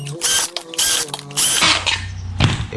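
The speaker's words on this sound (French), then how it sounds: "maintenant, dernière étape, on perce dans le bas des pattes." A drill bores into the bottom of wooden legs for a salt-pan structure, giving a loud whirring, ratcheting mechanical noise in bursts that rise and fall across the clip.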